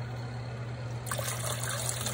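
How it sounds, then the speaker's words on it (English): Water is poured into a pot of simmering duck bone stock, starting after a brief pause as a steady splashing trickle over a low background hum. "Add some more water to it."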